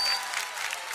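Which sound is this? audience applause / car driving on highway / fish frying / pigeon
audience applause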